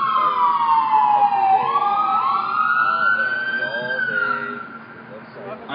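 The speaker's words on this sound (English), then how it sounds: "We're going to hold up until the sirens." Emergency sirens wail and sweep in rising and falling tones, loud at first and fading as the vehicles pass by.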